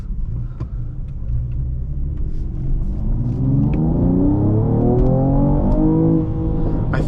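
A 2020 Mercedes-Benz E53 AMG in Sport Plus mode, heard from inside the cabin as a steady low engine rumble that swells into a rising rev as the car accelerates, loud and continuous, with no talking.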